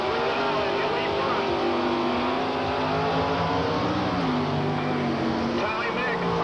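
A Firebird drag racing car roars hard at a 1989 drag race, a loud, steady engine howl sustained throughout, with an announcer talking over it.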